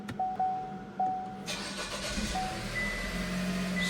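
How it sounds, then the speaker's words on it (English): A 2021–2026 Chevy Trailblazer engine cranks and fires up, a few short beeps first, then the motor catches and settles into a steady idle nearby. "Start the car"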